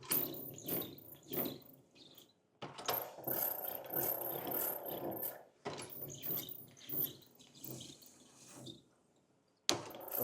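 Manual hand-cranked dough sheeter rolling out laminated croissant dough, giving bursts of clicking, ratcheting mechanical rolling in several passes separated by short pauses, close and fairly quiet.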